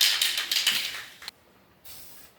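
Spray paint hisses from an aerosol can as a coat goes onto exhaust headers, a steady close hiss for just over a second that cuts off, then a fainter short burst after a pause.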